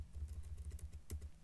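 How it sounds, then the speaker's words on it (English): Rapid, light clicking of computer keys while an email address is typed, close and quiet, in a quick uneven rhythm with one sharper keystroke near the end. "so I'll type this one"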